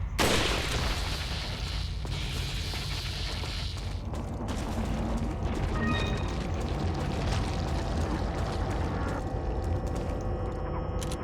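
Rapid gunfire in Resident Evil 4 (2005), a burst of loud shots with mechanical clacks and rattles of weapon handling following, continuous and close with no talking.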